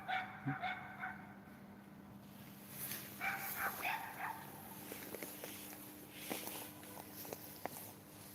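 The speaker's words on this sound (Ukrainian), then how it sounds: "Собачка гавкає." A small dog yips and barks in short, scattered bursts during an outdoor walk, fairly faint and somewhat distant, with footsteps and light background noise between the calls.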